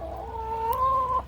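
Chickens clucking and squawking close up, a drawn-out rising call with a short cluck at the end, heard alone with no talking.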